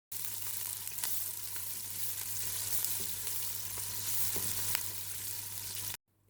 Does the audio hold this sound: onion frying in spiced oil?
yes